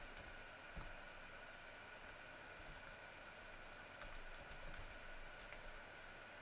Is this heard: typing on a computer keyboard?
yes